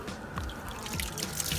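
Water pours and trickles into a bicycle chain cleaner during a mountain bike wash, a steady close splashing and dribbling with small drip sounds throughout.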